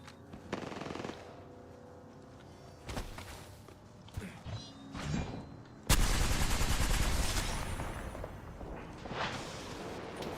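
Video-game gunfire in a live-streamed shooter, with scattered shots and bursts early on, then a sustained loud stretch of rapid automatic fire and impacts from about midway through, without speech.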